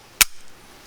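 A single sharp metallic click as the trigger of an unloaded 1892 Alaskan takedown lever-action rifle breaks on dry fire, close and brief in a quiet room.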